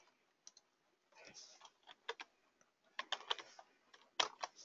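A computer keyboard is pressed at a testing station, a sparse series of quiet plastic key clicks and taps, some in quick pairs and small clusters, faint and close with brief gaps between.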